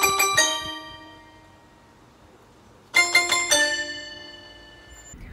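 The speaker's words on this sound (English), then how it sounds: "Beethoven's Fifth Symphony, the one that goes like this." The opening short-short-short-long motif of Beethoven's Fifth Symphony rings out twice on a bright, bell-like pitched instrument, each long note sustaining and decaying, clear and alone.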